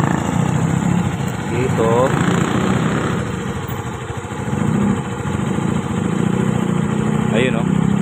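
A Suzuki Hayate FI motorcycle with a charging problem idles steadily nearby, its engine drone continuous throughout while someone speaks briefly over it.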